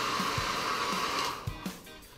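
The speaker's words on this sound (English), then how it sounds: "it's not natural and normal to use a hairdryer to get this back to normal condition" A hair dryer blows on wet Decathlon Btwin 300 cycling shoes with a steady, close whooshing whir for about a second and a half before it cuts off, leaving a few soft handling clicks.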